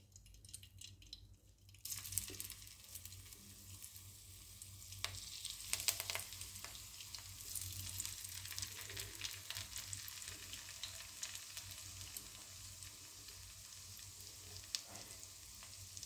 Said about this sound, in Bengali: পকোড়াগুলোকে ছাড়বো, তেলে ছাড়বো